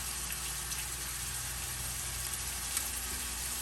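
Shrimp fry in a pan with a steady, even sizzle that holds at a moderate level throughout, with no voices over it.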